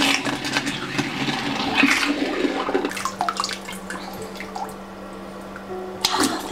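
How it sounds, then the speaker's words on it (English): Water runs and splashes into a bucket in a jewelry casting studio, with drips and a faint steady hum; the flow eases partway through, then picks up again near the end. "I need more water in the bucket."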